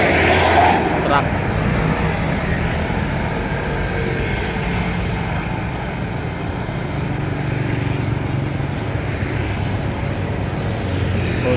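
Truck passing on a two-lane road with motorbike traffic, a steady loud broadband engine and tire roar that holds throughout, with a voice talking over it.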